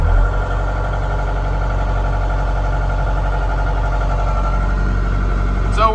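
A CAT 226D3 skid steer engine idles steadily just after a cold start, a loud, constant low-pitched diesel rumble with a faint high whine near the end.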